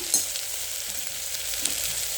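Turmeric going into hot tempering oil in a home kitchen, heard as a steady, close frying sizzle with a couple of faint clicks, continuous and without speech.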